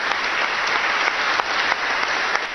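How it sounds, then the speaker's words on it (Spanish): Dozens of cardinals applauding Pope Benedict XVI in the Sala Clementina of the Vatican, sustained, dense clapping from a large group in a reverberant hall. "Con un sentido aplauso, decenas de cardenales recibieron a Benedicto XVI en la Sala Clementina del Vaticano"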